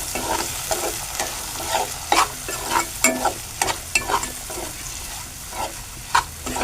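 Chopped onion fries in a pan until pinkish, sizzling steadily while a spoon scrapes and stirs in irregular bursts, close and clear, with no talking.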